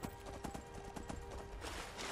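Horse hooves clip-clop in a steady rhythm in the video game Skyrim, close and fairly loud, with ambient game sound underneath.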